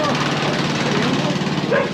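A lawn mower tractor fitted with six exhaust pipes runs steadily close by, its dense, rough engine drone holding constant for two seconds with a brief flare near the end.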